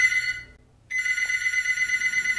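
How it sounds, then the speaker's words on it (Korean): A telephone rings in a studio setting, a steady electronic ring that pauses briefly and then resumes, loud and alone with no talking. "전화가 온 것 같아요"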